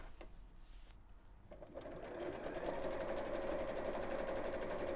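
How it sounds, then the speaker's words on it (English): A sewing machine stitches a water bottle carrier in straight lines, starting with a few soft clicks and then settling into a steady, even motor whir that runs to the end, fairly close and alone. "So I'm literally just sewing all the way around there."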